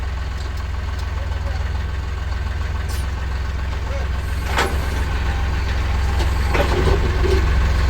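A farm vehicle's engine running steadily and close, a low, constant idling rumble as it pulls forward, with faint clanks and someone talking over it.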